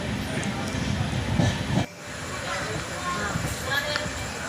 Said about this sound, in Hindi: ये प्लेटफॉर्म पर लगती हुई ट्रेन